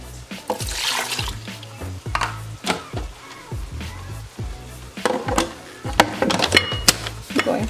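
Water poured into a blender jar with salt and other ingredients for a chile verde sauce, splashing and sloshing amid clunking of the jar and utensils, close and intermittent.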